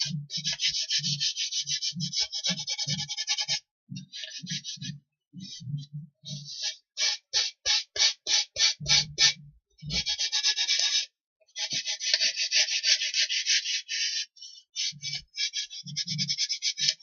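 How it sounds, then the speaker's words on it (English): Sandpaper rounding the edges of a wooden windmill propeller, bursts of close, hissing rubbing strokes, some long and continuous, others quick and rhythmic, separated by brief pauses and soft thumps. "So they will be rounded with sandpaper, and the rest will be sanded very well as well."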